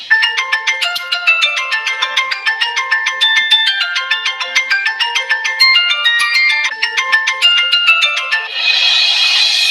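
Phone ringtone on an outgoing call, a bright repeating electronic melody of quick chiming notes, loud and close, playing steadily with no talk before it cuts off into a short hiss.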